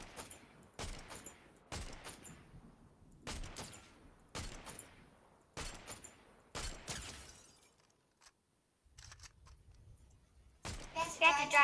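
Gunfire in a Fortnite match comes in sharp bursts of shots at a regular pace, with short quiet gaps between them and a louder flurry at the end.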